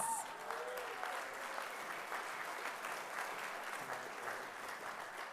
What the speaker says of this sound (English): you should give your applause to Steve Hanley